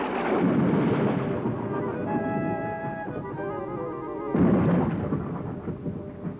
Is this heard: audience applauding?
no